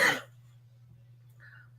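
A single close cough and throat clear bursts out at the start, then fades to near silence over a steady low hum, with a faint brief sound near the end.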